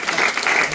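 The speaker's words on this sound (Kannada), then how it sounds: "ಜೋರಾಗಿ ಚಪ್ಪಾಳೆ ಬರಬೇಕು" Audience applause at an award ceremony, a dense burst of clapping that fills a large room loudly and evenly for a brief moment.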